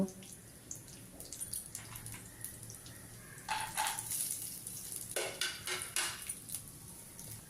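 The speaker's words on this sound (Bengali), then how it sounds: "তাতে 1 চামচ ঘি দিয়ে 1 মুঠো কাজু বাদাম ভেজে নেব" Cashew nuts fry in a spoonful of ghee alongside rice for Bhoger khichuri, a soft low sizzle broken by metal spatula clinks and scraping against the pan, nearby and fairly quiet.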